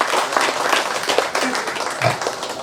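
Audience clapping at a Central Lampung regency event for National Waste Awareness Day, a close, steady round of applause lasting a few seconds with a few faint voices mixed in.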